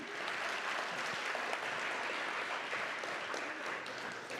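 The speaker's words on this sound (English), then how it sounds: "let's give them a round of applause before they even begin" An audience at a Women's History Month celebration applauds the artists before their performance, a soft, even wash of many hands clapping that sounds somewhat distant and stays steady throughout.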